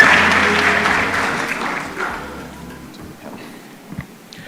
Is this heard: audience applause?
yes